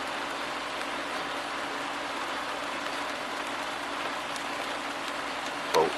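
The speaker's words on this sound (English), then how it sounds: "this has now gone from being a damp Derbyshire day to a pouring with rain one." Heavy rain pours steadily onto a Derbyshire building site, a dense, even wash of broadband hiss with a brief louder knock near the end.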